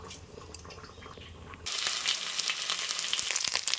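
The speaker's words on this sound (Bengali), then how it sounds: "ওই তেলে দিয়ে দিচ্ছি ফোড়নে একটা গোটা শুকনো লঙ্কা আর ঠিক গোটা জিরে" Whole dried chili and cumin seeds drop into hot oil, which had been frying potol, and the quiet pan bursts into a loud, crackling sizzle partway through that keeps spitting close by, with no talking.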